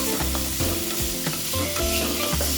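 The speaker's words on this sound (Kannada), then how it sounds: "ಟೊಮೆಟೊ ಒಣ ಮೆಣಸಿನ್ಕಾಯಿ ಎಲ್ಲ ಕ್ಲೀನಾಗಿ ಫ್ರೈ ಆಗಬೇಕು" Tomatoes and dry red chillies fry in a pan with a steady sizzle, broken by repeated scraping and stirring strokes of a spoon, close and fairly loud, with no talk.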